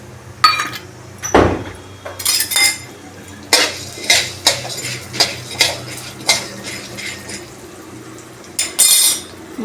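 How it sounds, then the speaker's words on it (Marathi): Black peppercorns dry-roasting in a pan for homemade garam masala, heard as a series of sharp metallic scrapes and clinks of a spoon stirring against the pan in irregular bursts, close and fairly loud, with no talking. "आता आपण काळा मिरी घातली आहे भाजायला."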